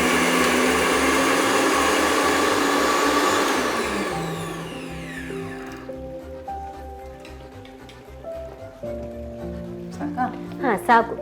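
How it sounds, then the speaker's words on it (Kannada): A kitchen mixer grinder whirs loudly as it grinds rice and cardamom with water for cucumber payasa, a steady high motor drone that winds down and stops, followed by clinks, taps and faint voices. "ಇದನ್ನು ಸ್ವಲ್ಪ ನೀರು ಹಾಕಿ ರುಬ್ಕೊಳ್ಳೋದು"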